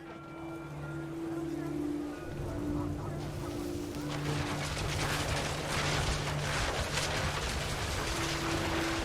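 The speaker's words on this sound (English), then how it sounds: "The wind picked up and panicked geese appeared and quickly went." Panicked geese in the video game What Remains of Edith Finch, honking and flapping amid gusting wind, with sustained tonal music and a rising rushing wash of weather noise.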